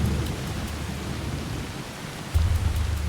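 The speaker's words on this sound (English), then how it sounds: "I think the rain is just gonna keep up." Steady rain hisses in a video game with a low rumble of thunder, then a deeper roll of thunder near the end; no voices.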